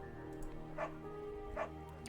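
A beagle in the Firewatch video game gives two short yips about a second apart, moderately close, over a steady low background hum.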